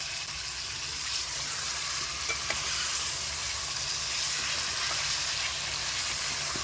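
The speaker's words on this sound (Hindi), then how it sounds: "तो गोश्त को डाल के इसको भून लेंगे।" Pieces of beef for nahari fry in ginger and garlic in a hot pan, giving a loud, continuous close sizzle with a few faint stirring knocks and no talking.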